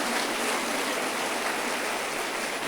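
Church congregation applauding: dense, steady clapping from many hands filling the space evenly, loud and continuous for the whole short stretch.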